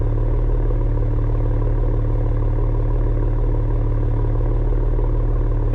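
A 2022 Ford Explorer ST's six-cylinder engine idles with a steady, deep drone, even and continuous with no revving, close and fairly loud with no voices.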